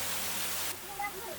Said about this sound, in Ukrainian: Перед нами великий Манявський водоспад.